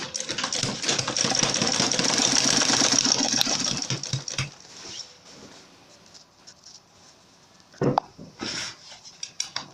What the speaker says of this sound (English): I'm going to sew it on top of the lining around